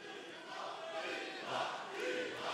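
A crowd at a Hexagone MMA event cheers and shouts together as a dense, sustained roar that swells and holds at a steady loudness, with no single voice standing out.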